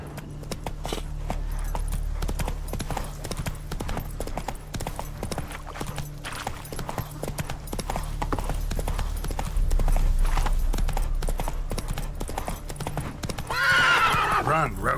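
Geralt's horse Roach gallops in The Witcher 3: Wild Hunt, a steady rapid clip-clop of hooves with an occasional neigh, under game ambience and talk.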